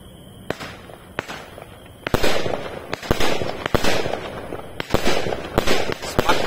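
Redstar 36-shot fireworks battery firing outdoors, a rapid series of sharp launch thumps and cracking bursts, loud and fairly close, with a few quieter pops before the barrage builds.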